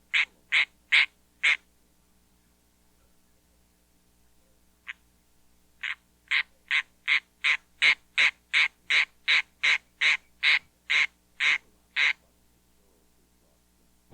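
A squirrel tree frog calling away from water late in the season, a run of short raspy nasal notes repeated in a steady rhythm, with a brief pause after the first few before the series resumes, close and clear over a quiet night background.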